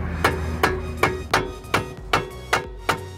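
A hammer taps a nail or punch eight times at a steady, unhurried pace to make a centre dimple in a broken lug nut on a Mercedes, each strike a sharp, close metallic tick.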